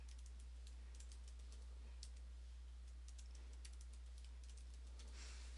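Rapid, steady typing on a computer keyboard while entering a password, clicks of the keys continuous and close over a quiet, constant hum with no talking.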